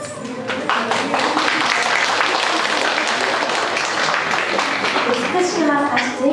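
An audience applauds Indian dance performers at a student recital, dense steady clapping filling the hall for several seconds with a few children's voices audible underneath.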